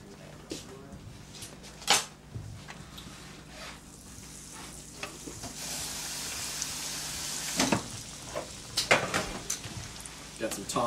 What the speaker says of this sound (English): we're gonna be actually just flash frying those to make the breadcrumbs and whatnot stick.